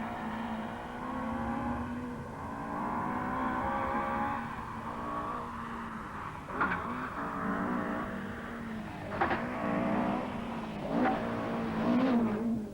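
Rally cars, including a Vauxhall Chevette, race in a 1983 rally, with engines droning and revving at a moderate distance and several sharper bursts as cars pass or change gear, all heard without speech.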